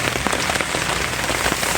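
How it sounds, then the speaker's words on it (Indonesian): Steady rain falls outside at night on a mountain in West Java, a dense, even patter of drops striking surfaces close by, with no voices. "Di luar terpantau hujan, kabut"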